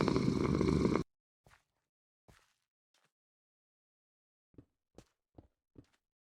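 A cat purrs steadily and fairly loudly for about a second, then falls silent, followed by a few soft, scattered thuds and light footstep-like taps.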